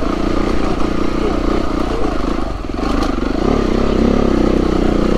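A Beta 390RR trail bike labours up a rocky lane, its engine close and loud and steady throughout, with clatter from the tyres knocking over stones and a short dip in the engine note midway.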